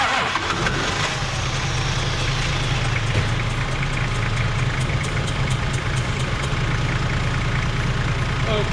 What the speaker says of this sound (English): let's crank her over and see if she'll fire